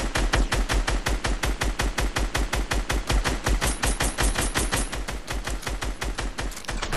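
Rapid, steady automatic gunfire in a Fortnite duos match, loud and close, firing continuously in an even rhythm for the whole stretch with no talk.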